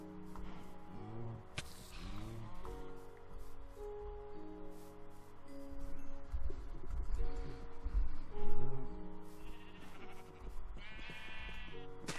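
Sheep bleat repeatedly in a Minecraft-style survival game, several wavering calls spread across the stretch over a backdrop of game music and scattered clicks and thumps.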